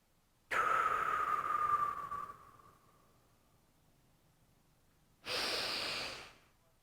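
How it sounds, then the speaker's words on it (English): A slow, relaxed nasal exhale during a Tummo breathing exercise, a soft airy rush that fades over a couple of seconds, then a second breath starts after a short pause, close and quiet with no talk. "It's a slow breath in and a slow, relaxed breath out."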